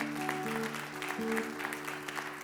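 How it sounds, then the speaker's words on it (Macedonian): Concert audience applause, a moderate wash of clapping under sustained musical tones from a stage at a Macedonian music concert. "Слободно со аплаузот,"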